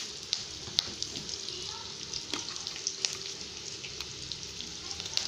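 Brinjal sautéing in oil in a pan for a tangy tamarind gravy, with steady close sizzling and frying crackle broken by small pops and the occasional stirring scrape.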